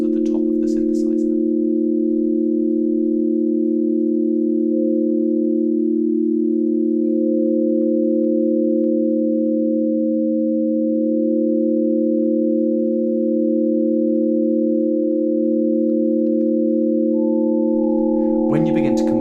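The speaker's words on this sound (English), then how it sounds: "When you begin to combine a lot of these combination tone chords, you get this rich spectral sound" Hyasynth prototype custom synthesiser sounding a stack of steady, pure sine-like combination tone chords, sustained and loud with small shifts in the upper notes, a rich continuous drone with no talking.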